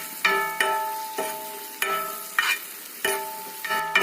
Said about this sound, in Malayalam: ഒരു നുള്ളിൽ മഞ്ഞൾപ്പൊടി നന്നായിട്ട് ഇളക്കി യോജിപ്പിക്കും